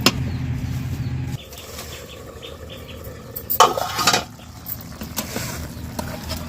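Teasel gourd pieces being sautéed and stirred in a pan ahead of the fish curry, with a steady frying hiss and scraping spoon strokes, and a louder clattering burst near the middle.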